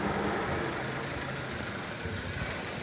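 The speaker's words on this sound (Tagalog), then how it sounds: "Palyado." A second-generation Toyota Vios engine idles roughly with a misfire, giving a steady, close mechanical rumble with faint uneven knocking throughout.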